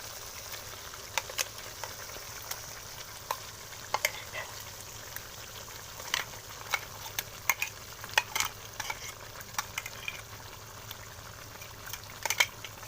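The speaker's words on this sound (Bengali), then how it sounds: "নাড়া দিচ্ছি।" Duck meat curry with chilli being stirred in a pan, soft scraping and sizzling frying with irregular clicks of the spoon against the pan, steady and close, with no talking.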